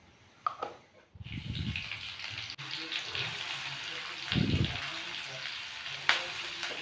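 Onion and garlic frying in oil with green chilli and nigella seeds give a steady close sizzle that starts after a brief pause, with a couple of low voice murmurs in the background.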